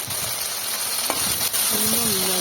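Ginger and a large chopped tomato frying in hot oil with whole spices like bay leaf and cumin, a continuous sizzle with a brief clink of a utensil.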